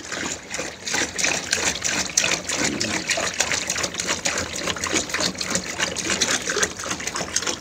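Water poured into a bowl for dogs, a steady loud gushing splash with a busy, continuous texture close by, no talking.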